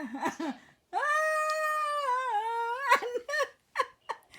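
A cat gives a long, drawn-out meow lasting a few seconds, loud and close, followed by several shorter broken cries; a voice is briefly heard at the start.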